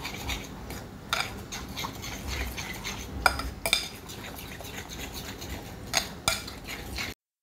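A salad is tossed with olive oil, salt and lemon, giving a steady close-up scraping and stirring of utensils in a bowl, with occasional sharper clinks of metal against the dish.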